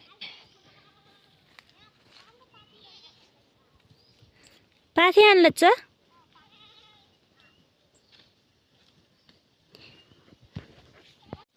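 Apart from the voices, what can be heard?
goats bleating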